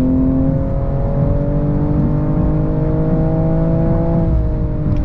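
2022 BMW M240i at full throttle on the Autobahn: a loud, steady engine drone rising smoothly in pitch as the car keeps pulling, with heavy road and wind roar inside the cabin.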